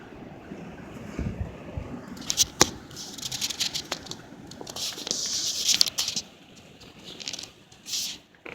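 High winds blow across Enfield, Connecticut in gusty, rushing surges that buffet the microphone. Pattering and rustling noise rises and falls in waves over several seconds.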